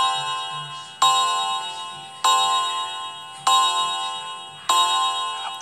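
A toy-like clock strikes with four bright, ringing chimes spaced about a second apart, each tone decaying slowly before the next. The strikes sound alone and close, with no talking.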